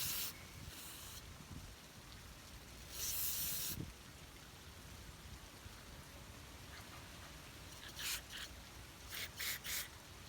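Aerosol spray hissing in short bursts onto a part of a Sears Craftsman 5 HP air sweeper, with quiet rubbing and handling sounds between bursts, close up.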